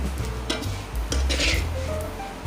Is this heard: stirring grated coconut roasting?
yes